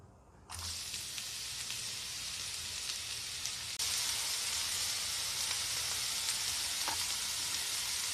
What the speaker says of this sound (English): Stir fry vegetables with medium over high heat.